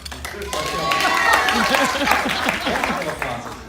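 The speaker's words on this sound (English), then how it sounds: "One applause." Banquet audience applauding, a lively mix of clapping and crowd voices, with cheering and overlapping chatter rising over the hands throughout.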